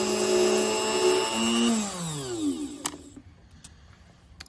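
A small power drill whirs at high pitch drilling a pearl, then winds down and stops, followed by a few faint clicks.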